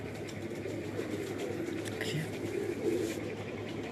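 Pigeons belonging to a pigeon keeper coo softly in a Lahore loft, low repeated calls running under a steady background hum, with a voice faintly present.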